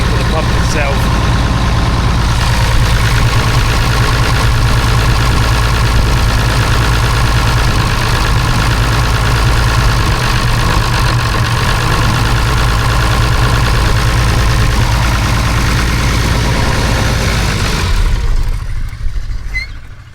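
A Perkins 6.354 diesel engine drives an irrigation pump at low revs, a steady loud idle-like drone that holds for most of the clip, with no speech, before cutting off near the end.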